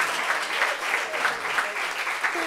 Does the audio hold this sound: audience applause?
yes